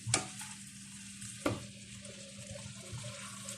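Vegetables stirred in a frying pan at home, a utensil clanking against the pan twice over a low continuous sizzle and soft scraping, fairly quiet and without talk.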